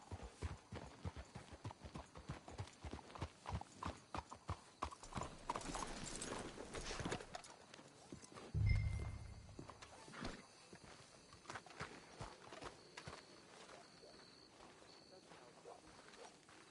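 Steady clip-clop of horse hooves walking in the game Red Dead Redemption 2, with a snort or whinny partway through and quiet talk in the background.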